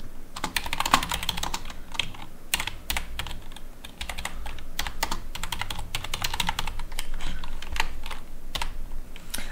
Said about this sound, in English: I have the most basic keyboard, Cherry something.